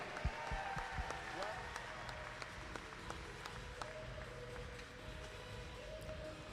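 A crowd applauds for Team USA at the AP Race London International super finals, steady clapping spread through a large venue with scattered sharper claps, heard at moderate distance.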